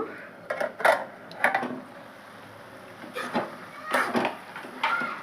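Metal pot lid lifted off a pan of carrot halwa simmering in milk, with a few clattering clanks and scrapes of metal cookware in bursts, near and moderately loud.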